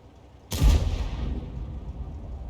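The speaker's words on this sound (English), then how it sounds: "That was his teammate firing" A teammate's tank gun fires once in a tank battle game, a single sharp, loud boom followed by a rolling rumble that fades over about a second.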